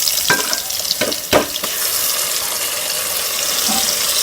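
Green gram is stirred into onions frying in a pan for a Tamil pachai payaru kulambu. A steady, close sizzle runs throughout, broken early on by a few distinct scraping stirs.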